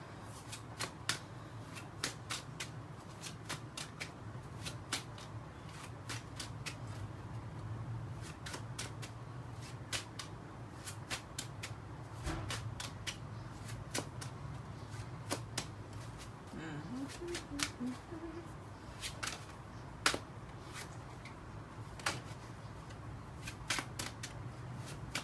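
Close-up shuffling of a reading card deck, a long run of soft papery riffles punctuated by regular crisp flicks and snaps, over a low steady hum with no talking.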